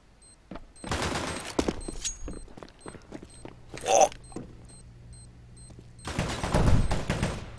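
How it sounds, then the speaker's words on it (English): Gunfire in the CS:GO video game, with shots aimed through a wooden wall: bursts of rapid automatic fire and single cracks, spread through the clip between quieter stretches, close and loud, with footsteps and weapon handling noises. "He's just gonna shoot through that wood."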